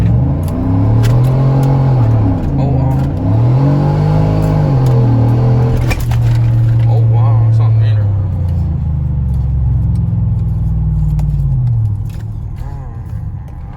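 A 5.3 single cab truck fitted with a 6.2 intake and throttle body revs hard in repeated rising and falling pulls, loud and close, with someone talking over the engine.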